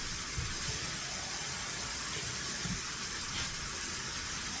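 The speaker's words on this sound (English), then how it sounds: "I'm gonna get half a can of water." Tap water runs into a half-filled can in a home kitchen, a steady broad rushing hiss, close and continuous throughout, with faint low clatter beneath.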